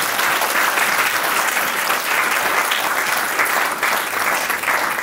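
A congregation applauding during an online church service: steady, loud, continuous clapping from a large group of worshippers, with no pauses.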